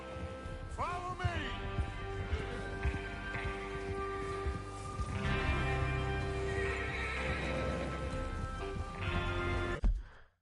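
Horses in a Western video game on PS4 give a sharp whinny near the start, then hooves clip-clop steadily alongside them against a background of game ambience and music.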